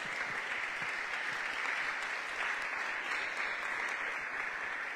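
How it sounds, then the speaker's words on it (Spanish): A church congregation applauding together, a dense, even wash of clapping held at steady loudness throughout, heard from within the room with no voices standing out. "Dale un aplauso al Señor."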